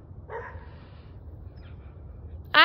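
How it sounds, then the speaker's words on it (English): A dog gives a short bark near the start, then a sharper, louder yip or bark right at the end, with quiet background between. "I hear you barking at me."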